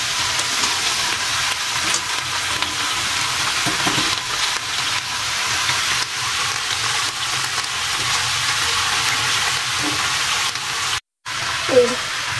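Jackfruit pieces stirred in a frying pan, giving a loud, continuous frying hiss throughout with occasional faint scrapes and a brief clunk near the end.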